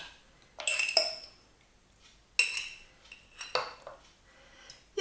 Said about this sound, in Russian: Я сразу выкладываю все из банки, потому что сейчас уже буду готовить